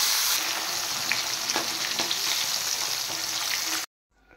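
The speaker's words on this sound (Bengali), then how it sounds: "এবার মাছগুলো আমি ভেজে নেব" Kalbasu fish pieces rubbed with turmeric and salt frying in hot oil, a loud, dense crackling sizzle with a few clinks and bubbling pops, continuing steadily before cutting off abruptly near the end.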